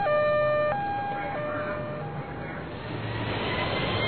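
A fire engine siren wails loudly and alone in steady held tones that step down in pitch, with a low vehicle rumble beneath.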